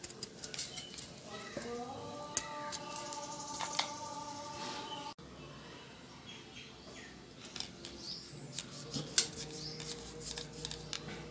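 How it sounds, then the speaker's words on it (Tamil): Raw jackfruit is chopped into small pieces with a knife, giving a string of sharp, irregular cutting clicks close by, with birds chirping and faint voices in the background. "இதுமாரி சின்ன சின்னதாக கட் பண்ணிக்கிங்க இந்த பலாக்காயை"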